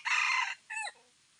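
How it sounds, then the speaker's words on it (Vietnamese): Jungle fowl rooster at a breeding farm giving one short, loud, close crow in two bursts, the second trailing off quickly. "Đó anh Huấn này gà đây này"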